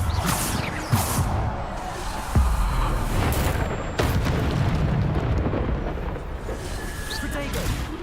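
Bombarda explosive spell blasts in the Hogwarts Legacy video game, loud booming bursts around 1, 2.4 and 4 seconds over dense continuous combat noise and game music, with voices speaking in between.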